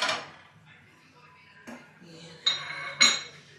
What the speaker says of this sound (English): I'm gonna go ahead and wash this skillet out